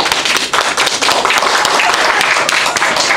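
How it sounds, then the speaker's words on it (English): A congregation at a Moorish Science Temple gathering gives a loud, close round of applause, dense hand claps filling the whole stretch without pause. "Give another round of applause"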